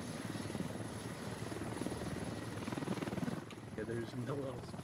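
Military helicopter in the shooter game Squad thumps with rapid, steady rotor chop and a whining turbine close by throughout, and a voice talks over it.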